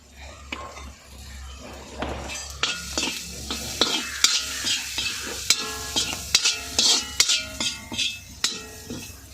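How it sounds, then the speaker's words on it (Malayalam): Coconut oil sizzles in a pan as cooked liver is stirred, a spoon scraping and knocking the metal in a steady, close rhythm of loud clinks over a constant frying hiss. "ഇനി നമുക്ക് കുറച്ച് വെളിച്ചെണ്ണ ചേർത്ത് കൊടുക്കാമേ"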